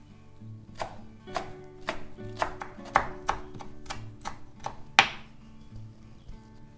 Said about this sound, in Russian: верхушки укропа, нарезаю мелко